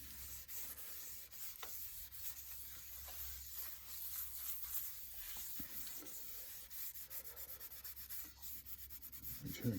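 Oil being rubbed and worked into oak burr wood, a steady close scuffing and wiping texture that runs throughout with small scratchy bursts and no talk.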